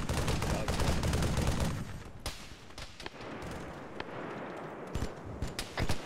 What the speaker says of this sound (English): I'm firing my personal mortar.